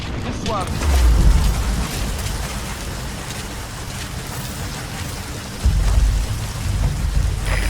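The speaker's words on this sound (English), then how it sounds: "The sound of rainfall should help to mask your footsteps." Heavy rain pours steadily in the Metal Gear Solid V video game, a dense hiss of drops with deep low rumbles swelling twice, likely thunder, throughout the stretch.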